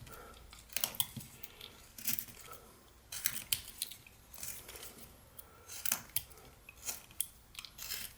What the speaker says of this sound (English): So you're going to start bringing your knife in and tapering that.